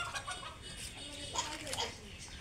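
Chickens clucking in short, scattered calls, fairly close, with a faint voice murmuring in the background.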